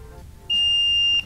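Continuity tester beeping on the ground contact of a lavalier microphone's 3.5 mm jack plug, a single clear, high, steady beep of under a second after a brief quiet moment.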